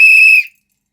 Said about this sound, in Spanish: Tenemos el timbre, bueno, el silbato.